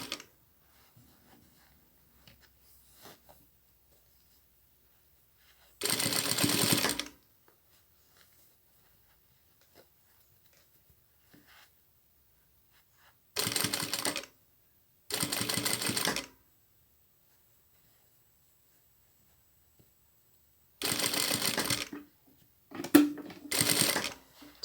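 A sewing machine backstitching the lined sleeve cuff of a child's coat, running in several short, separate bursts of stitching with quiet pauses between them.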